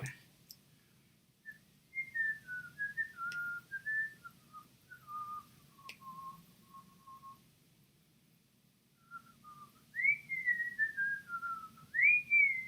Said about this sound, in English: Am I going to get flagged for whistling?